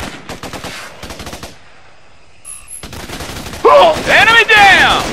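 Bursts of automatic gunfire rattle in the Raven Squad Xbox 360 game, with rapid volleys near the start, a brief lull, then loud sustained firing and echoing blasts toward the end, under shouted game voices.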